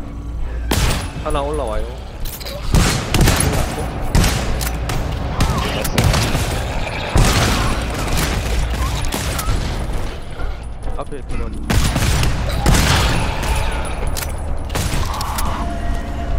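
Bursts of gunfire from the video game GTFO crack out repeatedly in rapid volleys with heavy booms, loud and dense throughout, while players talk over the shooting.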